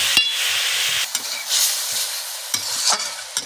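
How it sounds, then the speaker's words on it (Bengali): A spice paste for katla fish kalia is sautéed in a pan, a hissing sizzle with a few quick scraping stirs and knocks, loud and close, no one speaking. "সব কিছু মশলা দিয়ে এবার আমি ভালোভাবে মশলাটাকে কষিয়ে নেব।"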